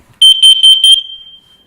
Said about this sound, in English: I'm going to push the test button, and a few seconds from now it'll probably go off